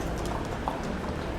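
Two horses pull a carriage through the streets of Palma de Mallorca, their hooves clip-clopping faintly in quick rhythm beneath a steady background of street noise.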